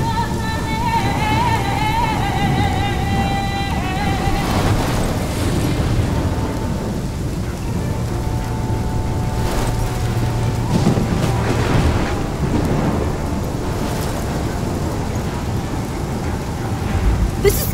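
Heavy rain and rolling thunder from a thunderstorm in the video game Life is Strange, a constant loud downpour with deep rumbles, underneath swelling orchestral music.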